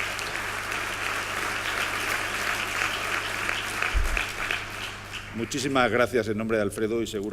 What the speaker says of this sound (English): I will ask for a round of applause for Alfredo